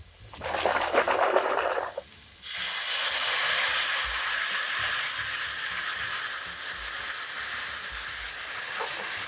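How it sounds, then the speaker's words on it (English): Low sodium chicken broth hits a hot pan with a loud burst, then settles into a steady, bright hiss of sizzling and steam. "we're gonna take some of this low sodium chicken broth and we're gonna cover the bottom of the pan"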